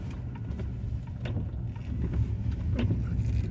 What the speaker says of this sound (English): And there's the ferry boat just leaving